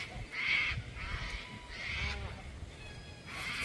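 Ducks among a mixed flock of birds on a morning outing in Campbelltown, Australia, giving repeated harsh honking calls in short bursts at moderate distance over steady outdoor background noise.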